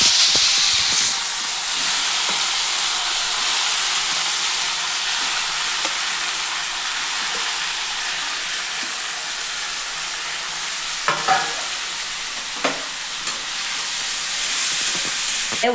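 Dried red chillies and tomato frying in oil, a loud continuous close hiss and sizzle that stays steady throughout, with a few faint clicks of a stirring utensil and no speech.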